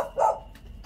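A single short dog bark, fairly close, over a quiet background hum.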